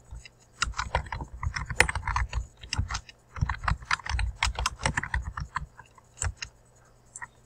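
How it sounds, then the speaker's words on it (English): Computer keyboard keys tapped in quick bursts while a heading is typed in all caps, close and clicky with brief pauses between words. "So I'm going to turn on my all caps button and type this in."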